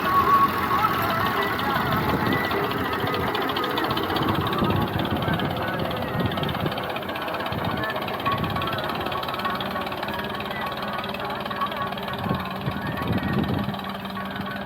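Tractor engine running steadily in a cotton field in Punjab, Pakistan, a continuous knocking, rattling drone close by with mechanical clatter, and people talking over it.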